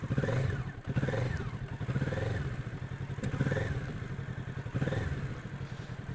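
A motorcycle engine is revved repeatedly by working the throttle while riding at a steady slow speed. The rhythmic pulses rise and fall in several swells, and the close engine chugs underneath them.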